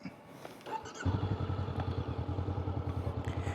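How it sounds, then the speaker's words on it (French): A motorcycle engine starts up and settles into a loud, steady idle with a rapid rhythmic throb, close by. "il suffit d'allumer sa moto tout simplement"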